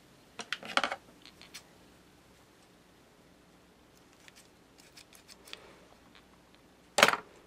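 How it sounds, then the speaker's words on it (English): Craft scissors that cut poorly snip through sewing thread on a Christmas keepsake ornament, making a few quiet clicks at the start and one sharp, louder snip near the end, with near silence between. "Those are my craft scissors,"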